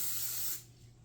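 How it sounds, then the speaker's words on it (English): Olive oil sprayer hissing into a frying pan in a single steady burst lasting about half a second, then cutting off to quiet kitchen room tone. "we are going to take some olive oil, sprayer pan"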